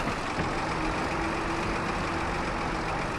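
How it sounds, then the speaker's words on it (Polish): A tractor engine labours steadily as it pulls about 1.5 tonnes uphill during haymaking and wheat sowing, a loud continuous drone with a low steady hum and no talk. "W tę stronę ten ciągnik nie ma siły."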